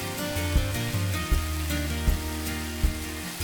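Crab sautés with tomato ketchup in a hot pan, a continuous sizzle under a low rumble with a few soft thumps spaced about a second apart, fairly loud and close, with no voices.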